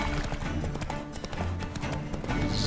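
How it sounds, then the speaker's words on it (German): Horse hooves clip-clop at a steady riding gait on a road in the video game The Witcher III, loud and continuous under in-game ambience, with no one speaking over them. "Wenn wir auf der Straße reiten, dann verbraucht Plötze keine Ausdauer und regeneriert"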